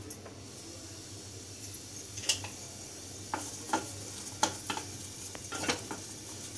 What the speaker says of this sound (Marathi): मिरची भाजायची आपल्याला रंग बदलेपर्यंत, किंचितचं तेल टाकूया आपण।